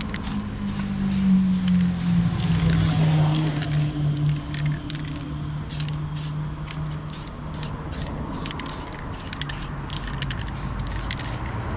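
Repeated short bursts of a spray can hissing primer onto a rusty car sill outdoors in wind, evenly spaced, over a low droning background.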